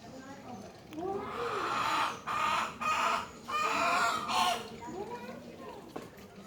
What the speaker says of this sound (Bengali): ডিম দেওয়ার সময় মুরগি এইভাবে চিল্লাপাল্লা করে,